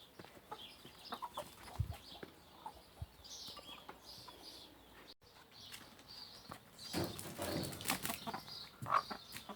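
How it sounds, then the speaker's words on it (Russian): Hens and their young chicks in a farmyard cluck softly and cheep in scattered calls, with occasional flapping and rustling nearby. "Сейчас покажу вам и курочек, и цыплят, которые вывела Вочка"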